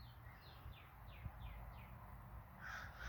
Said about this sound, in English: Damn crows are making noises